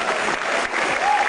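An audience applauds at a comedy show, a dense, steady wash of clapping.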